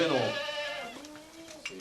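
Goats bleat close by in Santiago de Cuba, a long wavering cry sliding downward, followed by a thinner, steadier bleat, with faint outdoor noise around them.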